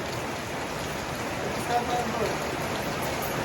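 Heavy rain hisses evenly throughout at a market in Norzagaray, Bulacan, a dense wash of drops close by with no break.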